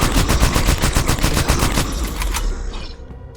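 Rapid automatic gunfire from a weapon in the retro first-person shooter SpacePunk Survival, a fast steady burst of loud shots lasting about two and a half seconds before cutting off into a fading tail.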